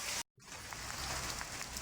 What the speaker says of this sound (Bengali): সকাল থেকে প্রচণ্ড পরিমাণে বৃষ্টি হচ্ছে